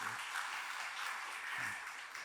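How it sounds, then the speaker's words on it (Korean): Church audience giving a round of applause in encouragement and thanks after a pastor's hymn, a faint, even wash of many hands clapping together at a distance. "우리 힘차게 한번 격려의 박수, 감사의 박수 하겠습니다"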